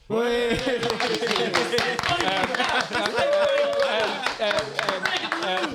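A concert audience claps and cheers for a band at the close of a set, steady close applause mixed with someone speaking over it.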